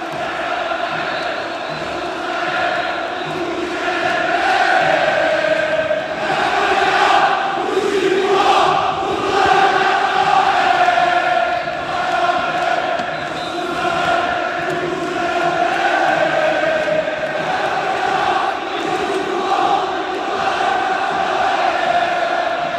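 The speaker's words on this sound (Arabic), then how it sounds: "تحت تشجيعات الجماهير فريق الرجاء كي يصعد الأرضية الملعب" Raja Casablanca supporters in the Mohammed V stadium stands chant and cheer in a massive, sustained roar, thousands of voices singing in rhythmic waves that swell and hold without pause.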